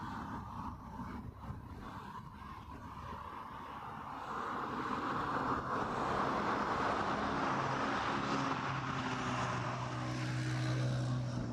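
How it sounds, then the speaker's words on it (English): A British Airways Airbus A320neo arriving to land at Heathrow, its broad engine roar swelling from distant to loud and steady, with a low droning hum underneath and no voices. "this one's an A320 Neo"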